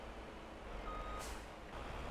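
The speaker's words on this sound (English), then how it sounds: "this is the mixer truck" Reversing beeps from a mixer truck in Farming Simulator, a faint, steady truck hum with a short tonal beep and a brief hiss of air, quiet and distant, with no talk.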